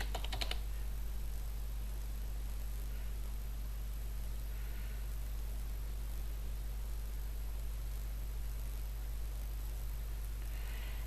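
Keys tapped on a computer keyboard while entering a password, a quiet run of soft clicks sitting under a steady hum and broadband hiss throughout.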